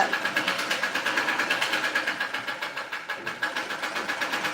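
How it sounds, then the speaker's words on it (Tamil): A sewing machine stitches a pillowcase in a fast, regular clatter of needle strokes, close and steady with a brief pause near the end, no voices over it. "தலகாணி உரை இனிமேல் தான் தைக்கணும் வந்து வருங்க பாப்பா வந்து தச்சுக்கிட்டு இருக்காங்க"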